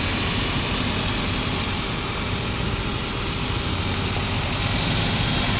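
A rebuilt engine in a Maruti Gypsy idles steadily close to the microphone, a constant low rumble and hum with no revving, nothing else audible.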